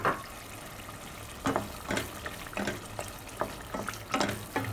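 Dried fish tipped into spice paste frying in a pan for a Sylhety-style shutki bhuna, giving a soft steady sizzle with several louder stirring scrapes and bursts, heard close and alone.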